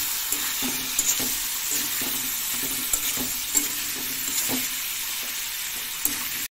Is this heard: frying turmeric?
yes